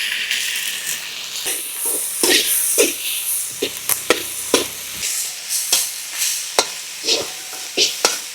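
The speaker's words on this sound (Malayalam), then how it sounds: "നമ്മളത് കറിവേപ്പില ഇട്ട് കൊടുക്കാം" Curry leaves hit a hot pan for a bone curry, crackling and hissing in a steady sizzle broken by sharp spattering pops and scraping stirs, close and fairly loud, with no one talking.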